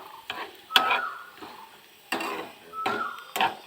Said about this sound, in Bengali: আমি এখন গোটা জিরেটা অ্যাড করে দিচ্ছি